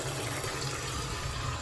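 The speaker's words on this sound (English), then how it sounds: "Turn the water back on. See water coming out here." Water pours steadily from a new waterfall-style bathroom sink faucet at partial pressure, a continuous close hiss and splash that stays even throughout, with no voices.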